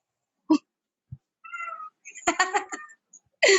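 A cat meows a few times in short, separate cries between quiet gaps, close by, with a brief faint thump.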